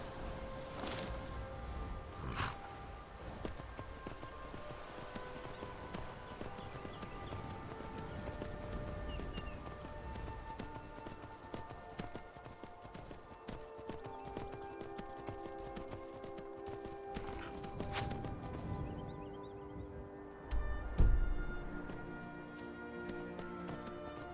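Horse hooves clip-clop in the video game Skyrim, a rhythmic patter of quiet steps over background game ambience, with a brief louder thump near the end.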